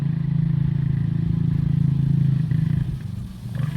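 Vehicle engines rumble close by, a motorcycle and another motor passing in a steady low drone that eases slightly toward the end.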